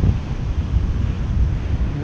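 Ocean surf on a beach during surf fishing for red drum, a loud, continuous roar of breaking waves mixed with gusty wind buffeting the microphone, with no voices.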